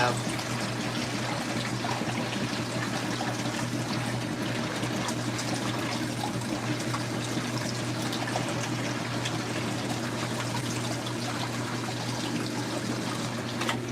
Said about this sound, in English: it appears to be draining now